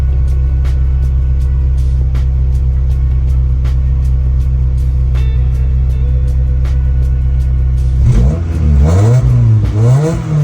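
A rebuilt Honda or Acura car engine idles steadily with a low rumble and faint clatter, then revs up and down a couple of times near the end.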